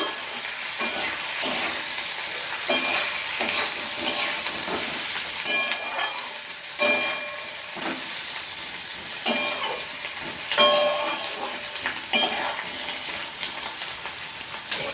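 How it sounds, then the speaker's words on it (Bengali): Fried potatoes being stirred into spice masala in a hot pan, a continuous sizzle and hiss broken by regular scraping strokes of the spoon every second or so, close and fairly loud, with no talking. "ভেজে রাখা আলু মশলার মধ্যে খুব ভালোভাবে নাড়িয়ে নিচ্ছি"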